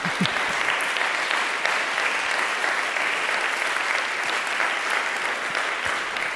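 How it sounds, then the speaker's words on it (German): A large audience at a democracy conference applauds, dense sustained clapping that stays loud and even from start to finish, with no voices over it. "einen großen großen Applaus bitte"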